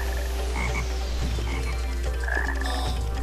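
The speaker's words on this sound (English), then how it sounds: "You evil frog" A frog in the Sonic Heroes game croaks in short repeated bursts over a loud, steady low drone and busy game music.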